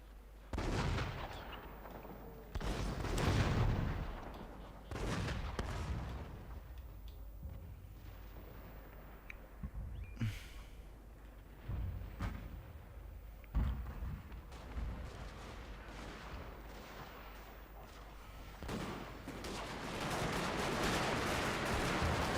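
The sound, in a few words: rifle and cannon fire in video game Shogun II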